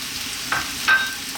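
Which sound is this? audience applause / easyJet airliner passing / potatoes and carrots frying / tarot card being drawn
potatoes and carrots frying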